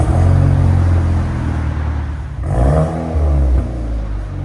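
A 2016 Chevy Camaro Turbo with Dynomax and LCGP exhaust revs loudly nearby, a steady low idle rumble swelling into two throaty blips before settling back.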